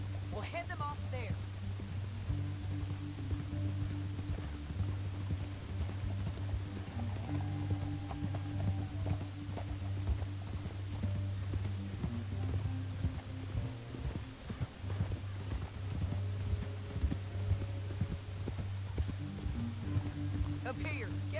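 Horse hooves clip-clop steadily across the whole stretch in Red Dead Redemption 2, a rhythmic trot under a continuous low hum, with voices talking over it at times.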